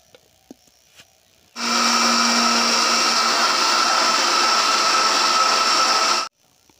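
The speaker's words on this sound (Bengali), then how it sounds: "আমি এখন শসার টুকরোগুলো মিক্সিং জারে দিয়ে দিয়েছি। এবার আমি শসার একটা পেস্ট বানিয়ে নেব।" A mixer grinder blends cucumber pieces into a paste, a loud steady motor whir with a low hum starting abruptly after a quiet moment and running evenly for about five seconds before cutting off.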